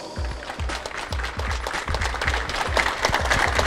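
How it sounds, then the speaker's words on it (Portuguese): Crowd clapping at a school inauguration ceremony for the CVM college in 2018: steady, dense applause with regular rhythmic low thumps running underneath, sustained and fairly loud throughout. "vamos lá, uma salva de palmas"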